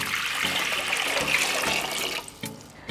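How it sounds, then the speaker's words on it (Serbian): A litre of water is poured into a cooking pot in one steady, close, loud rushing stream that tapers off near the end. "U šerpu ću sipati litar vode."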